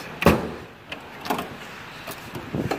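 A mechanic's toolbox drawer slides open with a short metallic scrape, followed by scattered softer clicks and shuffles, close and fairly quiet.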